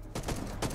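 Gunfire in a PvPvE shooter game, two quick bursts of loud close shots within under a second, with no talking over them.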